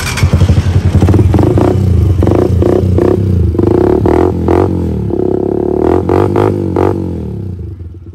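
A Honda TMX 125 Alpha scrambler motorcycle revs loudly up close, its single-cylinder engine blipping through repeated short throttle bursts over a steady idle, with rattly mechanical clatter and no talk.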